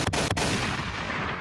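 Two sharp gunshots crack in quick succession near the start, a stream-donation sound effect, and the ringing of the shots fills the rest of the moment.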